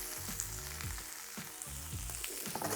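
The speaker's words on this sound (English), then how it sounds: "we're going to saute those for a minute or two" Chopped tempeh and vegetable chunks sauteing in a hot pan, a steady close sizzle with occasional stirring scrapes and clunks.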